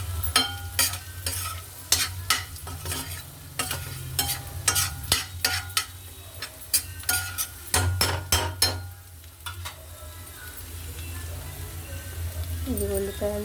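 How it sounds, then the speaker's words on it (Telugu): Egg bhurji with onion, salt, chilli powder and turmeric sizzles and is stirred in a pan, giving a steady fry under repeated sharp scraping and clinking strokes of the spoon, with a voice talking over parts of it. "అండా బుజ్జి చేస్తున్నాను."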